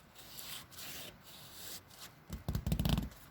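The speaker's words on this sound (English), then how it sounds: "if you take a leaf and rub it on a piece of paper." A leaf rubbed hard against a sheet of paper gives a dry scratchy rasp, soft at first, then rising into a burst of quick back-and-forth strokes near the end, close and alone.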